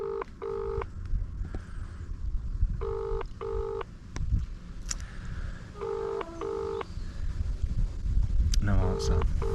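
A mobile phone sends paired dialling tones in several short groups while a call is placed outdoors on a south coast hike, with wind and a speaking voice in the background.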